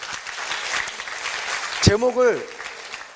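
An audience at a Korea University lecture on the digital revolution and entrepreneurship claps in a steady patter for about two seconds. A voice then speaks into a microphone.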